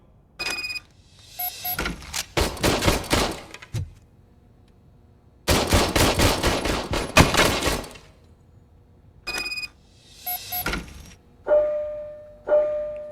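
A service pistol is fired in the video game Robocop: Rogue City, with loud bursts of rapid shots in several clusters and pauses between them. A few shorter tonal game sounds come near the end.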